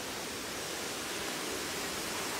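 Steady broadband rush of a river-fed stream where it empties out at the base of a waterfall, a continuous close wash of flowing water with no voices.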